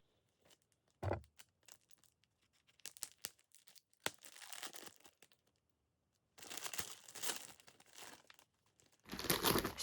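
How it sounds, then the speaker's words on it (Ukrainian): Crinkly plastic rustles in short bursts, then a longer stretch of tearing and crumpling as an advent gift packet is ripped open close by. "зараз відкрию пакетик під номером 22"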